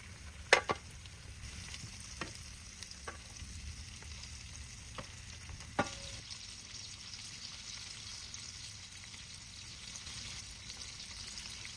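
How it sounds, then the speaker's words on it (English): Shrimp cook gently on golden garlic in a frying pan for gambas al ajillo, giving a steady, soft sizzle with a few sharp clicks and taps from a utensil, no voices. "place the shrimp right on top and let them cook gently"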